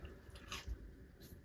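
Crunchy homemade pancake with a crisp crust being bitten and chewed up close, a couple of soft crackling crunches and quiet mouth sounds at low volume.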